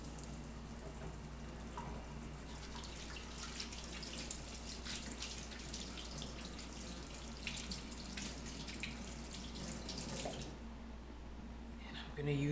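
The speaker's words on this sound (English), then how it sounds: "And I'm going to wash my hands." Hands washed under a running kitchen tap, a steady faint splashing stream with water flowing over skin and into the sink, broken by small drips, a constant low hum beneath and a voice now and then.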